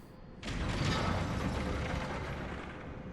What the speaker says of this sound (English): I didn't even send the elevator back up.